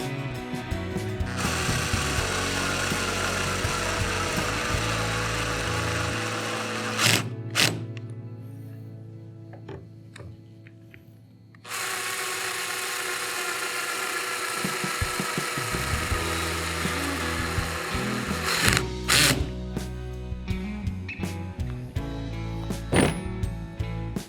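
Cordless drill on a low clutch setting driving screws into well nuts on a Hobie 2020 Outback kayak, two long sustained whirring runs with clicking clutch ratchets and a quiet gap between them.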